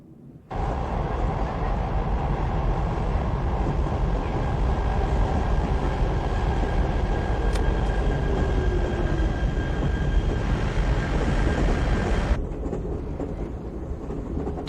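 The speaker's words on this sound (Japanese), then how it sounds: "これは中国は雲南省を走る電車の音だ" A train runs through Yunnan, China, with a steady, loud rumble and rolling wheel noise that holds for most of the span, a faint high tone riding on top, then drops away near the end.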